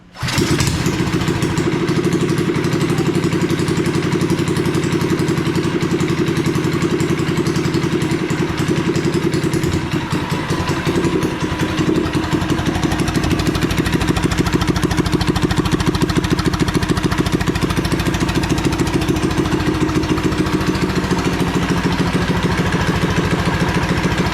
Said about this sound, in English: I started this thing up with some gas in it and it was running good